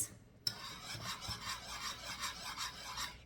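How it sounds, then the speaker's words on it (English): Coconut cream pie filling being whisked in a pan over medium-low heat: a steady rhythmic scraping and rubbing, roughly three strokes a second, close and fairly quiet, with no talking. "we are just going to keep whisking this mixture for 2 minutes"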